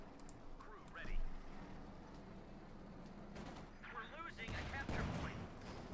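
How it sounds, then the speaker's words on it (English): Calliope rocket barrage in Company of Heroes 2 as a volley falls on enemy Grenadiers: scattered rumbling blasts and crackling impacts across the battlefield, moderately loud beneath ongoing game noise and a voice talking. "he needs the Calliope barrage here to try and snuff out the Grenadiers"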